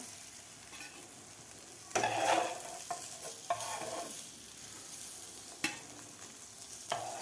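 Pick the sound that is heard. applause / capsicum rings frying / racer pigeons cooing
capsicum rings frying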